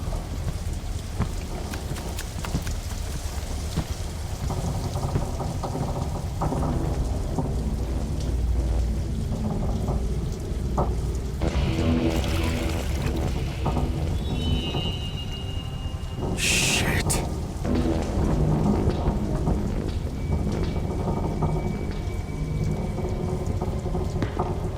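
Steady rain pours with rolling thunder rumbling through a dark scene in the video game Interrogator, a constant loud wash with a few sharper cracks midway.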